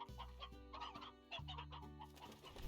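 A rooster clucking in a video game, a run of short, close, throaty clucks over a steady low background tone.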